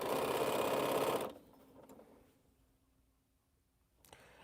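A sewing machine runs a quilting seam in one short, steady whirring burst that cuts off, leaving faint room noise and a small click afterward.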